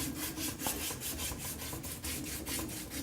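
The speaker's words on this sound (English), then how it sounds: "So I'll probably sand the entire thing" Steady rhythmic rasping of sandpaper rubbed back and forth by hand on the wood of an antique brace, close and fairly loud, with no voices.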